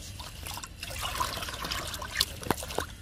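Liquid fertilizer pours onto fruit plants in a soft, close trickle, with a few brief louder splashes near the end.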